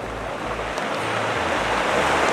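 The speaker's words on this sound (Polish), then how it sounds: "wszystko rozwiewa wiatr" Strong wind roaring across a stormy seashore during a winter storm, a loud steady buffeting rush with low gusting thumps against the microphone and surf noise beneath, no talk.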